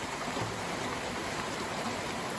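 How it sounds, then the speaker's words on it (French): Steady, dense rain from a storm pours down in an even hiss with no breaks, close and moderately loud, with no voices. "En tout cas, ça pleut vraiment bien."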